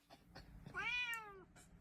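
A single drawn-out cat meow, close and clear, rising then falling over about a second against a faint background murmur.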